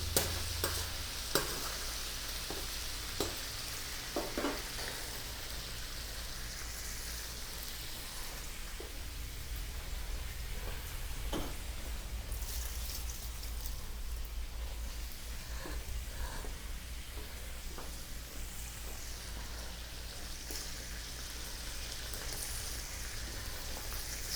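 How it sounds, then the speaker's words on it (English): Ingredients for paella Valenciana frying in a pan, a dense steady sizzle and crackle throughout with occasional louder pops and stirring clatters near the start. "I'm going to fry them now, and then I'll set them aside"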